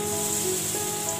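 Hog plum (amra) pieces frying with spices in a pan, a steady close sizzle with fine crackling, constant and unbroken over the brief moment.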